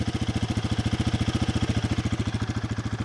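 A Triumph Speed 400 or Royal Enfield Guerrilla 450 motorcycle ticks over at around 2,000 RPM, a close, steady, evenly pulsing exhaust rumble with no talking.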